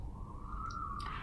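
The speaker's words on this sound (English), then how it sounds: "Sorry about that siren." A distant siren wails in a single steady, rising tone, faint and continuous beneath a low background hum.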